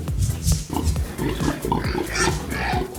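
A pig loaded into a wheelbarrow grunts and oinks repeatedly up close, a rapid run of short rough squeals and snorts over a farmyard background.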